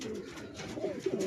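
Pigeons coo softly in a soft, repeated, rolling rhythm, fairly close but low in level, over faint background noise.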